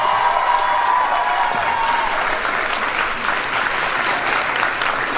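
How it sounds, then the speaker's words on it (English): A VidCon 2018 panel audience claps for the Worth It hosts, a dense, loud and steady wash of applause from a large crowd filling the room, with faint voices mixed in. "let's give the Worth It guys a round of applause"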